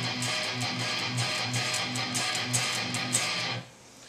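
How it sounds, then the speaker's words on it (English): Distorted electric guitar plays a B inverted power chord in a metal rhythm style, strummed repeatedly in a steady chugging pattern and then stopping abruptly near the end, loud and close with no talking. "So that's the B inverted power chord."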